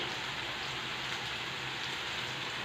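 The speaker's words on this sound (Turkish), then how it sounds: "Dışarıda da yağmur başlamış." Steady rain falls outside, a dense continuous hiss of drops with no breaks, even and moderately loud throughout.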